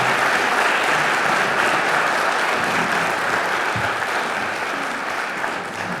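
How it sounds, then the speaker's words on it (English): An audience at an MLK Day event claps for panelists, a dense, sustained round of applause filling the room that tapers slightly toward the end, with no speech over it. "Just one more round of applause and thank you for the panelists today."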